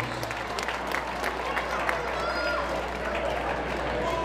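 Crowd applause at a boxing fight night, steady clapping and murmur filling a hall at moderate volume, with an announcer's voice faintly over it.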